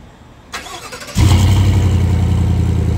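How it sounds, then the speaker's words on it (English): A 2021 Chevrolet Tahoe Z71 with its 5.3 V8 and cat-back exhaust cranks over and fires up, settling into a loud, deep, steady rumble after a brief starter whir. "Let's hear the sounds like with the cat-back exhaust."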